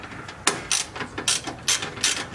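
A hand ratchet loosens 10mm bolts in the engine bay of a Lexus IS300, giving a close, rapid series of bright mechanical clicks in short repeated strokes.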